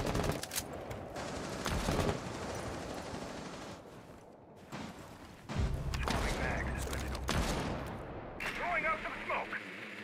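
Rainbow Six Siege gunfire on the Chalet map comes in repeated sharp volleys and bursts, loud then fading into gaps, with game mechanisms clanking and voices talking through it.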